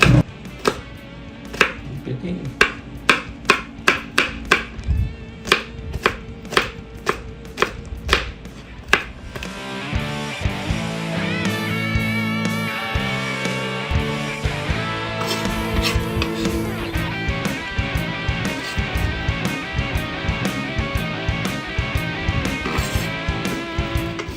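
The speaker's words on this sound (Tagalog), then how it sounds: "Gagayat naman tayo ngayon ng sibuyas, bawang" A knife chops onions and garlic on a board with a run of sharp, evenly spaced strikes that give way to a denser, continuous clatter over background music.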